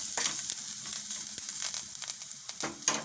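Spices, cumin, salt and green coriander being mixed with cold roti in a pan, giving a soft close sizzle with a few brief stirring scrapes over about three seconds, no voices.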